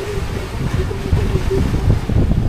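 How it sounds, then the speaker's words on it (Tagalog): A strong northeast monsoon wind roars steadily across a boat at sea, a loud buffeting rush with low rumble and a faint engine tone running under it throughout. "Grabe, biglang lumakas yung amihan ba?"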